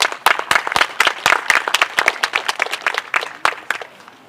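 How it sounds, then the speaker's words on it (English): An audience at a live-streamed stage event gives a round of applause, with sharp, distinct claps from several people in a fairly sparse, uneven rhythm that thins out toward the end. "Please give Maya another round of applause."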